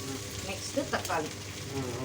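Tomatoes sautéing in a pan with mint, a steady close sizzle and crackle running throughout, with a few brief stirring scrapes midway and no speech.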